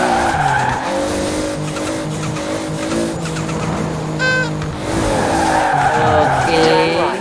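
In Forza Horizon, a Toyota Supra racing car drifts through a corner, tires skidding and squealing over a revving engine that drops and climbs again, loud and close, with a short clank partway through.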